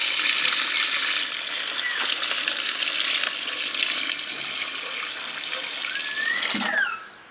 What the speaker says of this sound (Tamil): இப்போ தண்ணி பழத்துக்கு ஒரு காவாசி வர மாதிரி தண்ணி ஊற்றிக்கிறணும்.